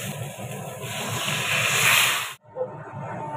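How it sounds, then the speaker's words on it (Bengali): Hot water hits fried spice paste in a pan for a Bengali fish curry with elephant foot yam, sending up a loud, building hiss that swells for about two seconds, then cuts off abruptly before the bubbling resumes. "কষা হয়ে গেছে, এবার এতে গরম জল দিয়ে দেবো।"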